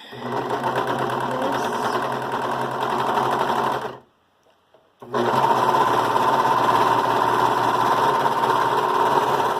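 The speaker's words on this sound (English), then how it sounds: "I'm going to continue sewing this." A Brother 1634D serger stitches a dog sweater with a loud, continuous mechanical whir that stops for about a second midway, then resumes at full speed without talk.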